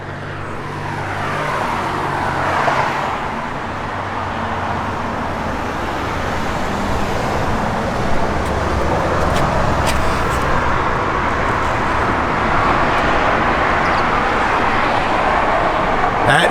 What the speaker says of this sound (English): Good sounding Magnaflow X-pipe dual exhaust system in it.